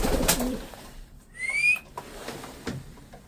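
A caged pet bird, a grizzle ornate-type pet bird, gives a few clear whistled calls, with rising tones in the middle, over a background of rustling and handling noise.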